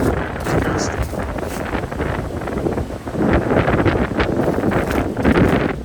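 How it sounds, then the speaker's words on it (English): Strong wind buffets the microphone in a steady broadband roar with gusty surges, loudest in the second half. "It's sunny, but really windy. You can hear the wind."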